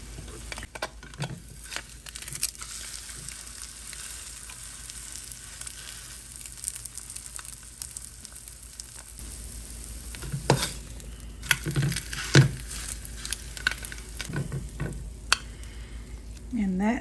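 Egg and torn spinach frying in a pan with a steady low sizzle, broken by a few soft stirring scrapes and utensil taps, mostly toward the end; no talking.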